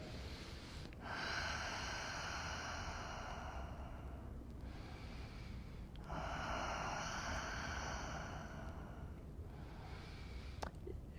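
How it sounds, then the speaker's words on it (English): Slow, deep breaths during a yoga happy baby pose: two long, airy exhalations, close and fairly quiet, in an otherwise calm room. "So take a couple of rounds of deep breath here."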